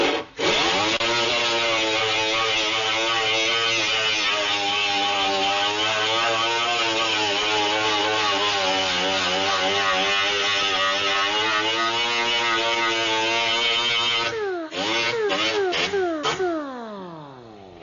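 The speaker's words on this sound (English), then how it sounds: "What we're going to need to do is grind this using the 24 grit grinding disc like we did on the dent." Angle grinder fitted with a 24 grit disc grinding paint off a car fender, a loud sustained whine holding steady for most of the time, then dipping and rising in quick bursts near the end.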